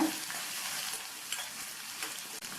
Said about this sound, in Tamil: சேர்த்துருக்கிற வெங்காயம், பூண்டு, மிளகாய் எல்லாம் ஓரளவு நல்லா வதங்கி வரட்டும்